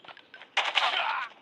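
Gunfire rattles in Call of Duty Mobile, a couple of faint distant shots followed by a louder rapid automatic burst lasting under a second.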